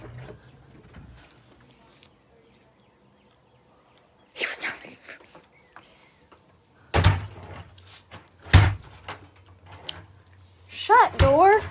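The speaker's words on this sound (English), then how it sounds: "Shut door." A back door shuts with two sharp, loud thuds a second or so apart, set against a quiet room with faint background noise; a person's voice follows briefly afterward.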